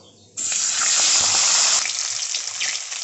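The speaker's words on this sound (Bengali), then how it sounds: "মাছের মাথাটা উল্টে পাল্টে লাল করে ভেজে নেব" A sudden burst of loud, crackling sizzle as a fish head hits hot oil, holding steady and close with faint pops throughout.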